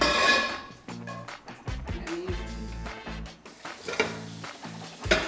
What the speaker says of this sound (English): Now, we're just mixing in the nectarine and the rice.